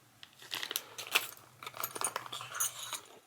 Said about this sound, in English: Here we have two keys.